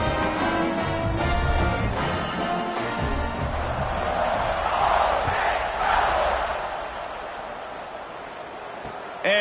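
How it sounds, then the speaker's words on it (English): Crowd noise in an American football video game rises into a loud, steady stadium roar with cheering swells, running continuously under game sounds throughout. "this crowd is buzzing after that last score"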